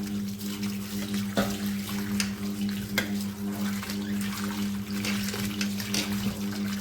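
Potato slices for wafers are rubbed and washed by hand in a basin of water, making continuous sloshing and splashing with sharp clicks of slices knocking together over a steady low hum.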